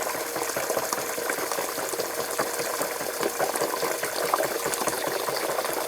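Chicken broth heating in a pot for homemade chicken noodle soup gives a steady bubbling, hissing simmer that holds evenly throughout, with no talking.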